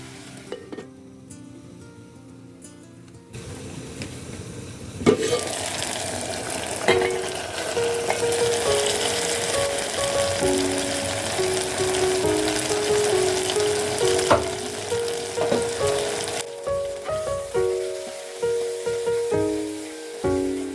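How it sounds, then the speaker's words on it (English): Tomatoes and liver cooking together in a pan, a loud, continuous sizzle and spatter close by after a quieter start, with repeated scraping stirs and a few utensil knocks throughout. "Stir everything together and cook for a few minutes until the tomatoes are completely cooked."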